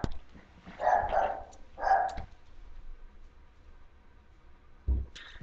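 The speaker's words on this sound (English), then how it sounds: "I had to go take care of my barking dog right there." A dog barks indoors, two distinct barks close together early on, then a pause before a brief thump and faint yip, heard at moderate distance in an otherwise quiet room.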